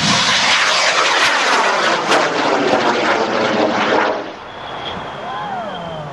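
A propeller plane, a Tomahawk, drones loudly overhead, its roar sweeping past and then easing off after about four seconds, leaving a quieter hum and faint chirps.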